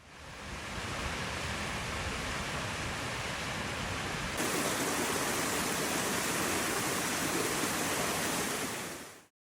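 A waterfall reached on a summer hike near a campground sends out a steady, dense rushing roar that holds at even loudness for about nine seconds, with no voices.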